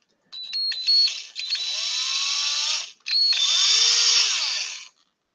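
Power drill boring into a Knight Models Lexcorp kit part, two close whining bursts with a short pause between, rising and settling in pitch, loud and alone without talk.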